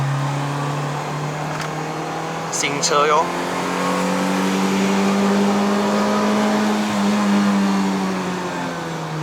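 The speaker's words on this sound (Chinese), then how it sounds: "其实它的引擎本来就是这么大声，没有改过 exhaust 是不是？exhaust 改过。 哦，所以有一点稍微的大声啊。" A Toyota Corolla AE92 with a 4A-GE 16V engine and modified exhaust drones steadily from inside the cabin on a mountain road climb, its engine note rising gently as people talk over it.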